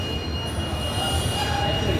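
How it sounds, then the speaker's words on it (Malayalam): Steady rumble of a Kochi Metro train in a station, with a high thin whine and squeal over continuous low mechanical noise. "ഇതാണ് നമ്മുടെ കൊച്ചിയിലെ മെട്രോ സ്റ്റേഷനാണ്"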